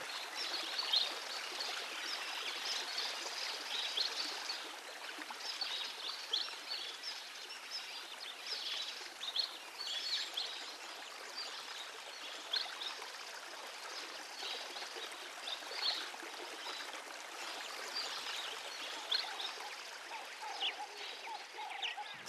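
River water flows steadily in a continuous, soft, hissing trickle and babble, faint and even throughout with no voices.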